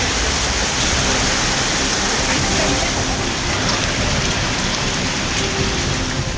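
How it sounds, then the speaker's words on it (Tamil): Heavy summer rain pours steadily in a hill area during a night thunderstorm with strong wind, producing a dense, loud, unbroken hiss of falling water without any pauses. "பலத்த காற்று மற்றும் இடி மின்னலோடு கனமழை பெய்தது"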